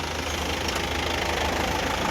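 A vehicle engine runs at steady idle during the owner's test trial at an engineering workshop, a continuous low rumble with a faint knocking texture, fairly close and constant, with no talk.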